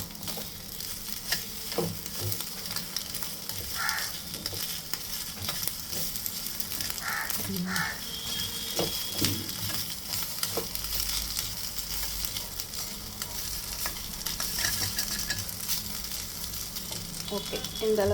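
Egg frying in a pan and stirred now and then, a steady close sizzle with scraping and stirring noises running throughout.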